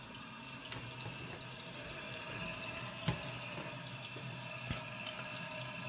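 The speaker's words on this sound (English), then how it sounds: "we can watch our tank refill." A toilet tank refills through a new Fluidmaster fill valve with a steady hiss of rushing water, broken by a couple of small clunks, and no talking.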